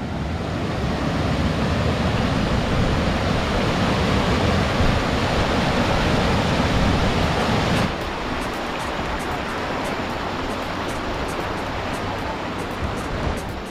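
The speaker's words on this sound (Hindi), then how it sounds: "मंदाकिनी नदी एक झरने के रूप में किस तरह से बह रही है" The Mandakini river pours as a waterfall near Janaki Kund in Chitrakoot, a loud, close, continuous roar of rushing water that drops somewhat in level partway through, with faint clicking over the later part.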